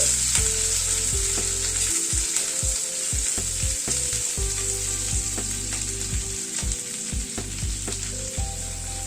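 Onion and capsicum fry loudly in hot oil in a pan, a steady dense sizzle with a spatula stirring and scraping in repeated strokes, close and continuous with no talk.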